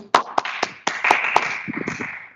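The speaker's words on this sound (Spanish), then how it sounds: "cedo la palabra al doctor Joel Zapata Salazar, al cual pido un aplauso" A few sharp, separate hand claps for Doctor Joel Zapata Salazar, spaced unevenly and loud, followed by a brief flurry of softer clapping as the sound tails off.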